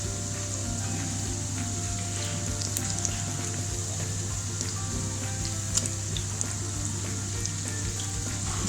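Potato and egg fries frying steadily in hot oil, a dense continuous sizzle with small pops and crackles throughout, close and even, with no talking.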